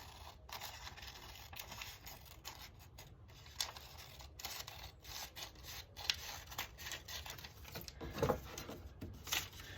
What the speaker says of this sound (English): Find my scissors here. Cut the outside.